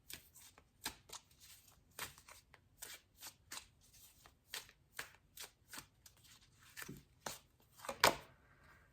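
Tarot cards being shuffled by hand, a series of quick papery riffles and slaps repeating at an irregular rhythm, close and crisp with no talking, ending in a slightly louder flurry.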